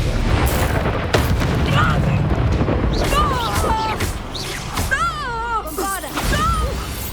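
Bombarda blasting spell in Hogwarts Legacy on PlayStation, loud booming impacts and crashes amid combat whooshes, with voices crying out and speaking over the clash.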